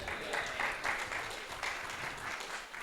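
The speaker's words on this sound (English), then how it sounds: "Big round of applause for Tom." Steady applause from an audience at a talk on AI, a dense wash of clapping that carries evenly throughout.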